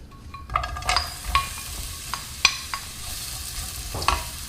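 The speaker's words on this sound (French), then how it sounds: "ajouter l'oignon émincé." Sliced onion sizzles in olive oil in a sauté pan over high heat, a soft steady crackle with scattered clicks and utensil scrapes from stirring, no talk.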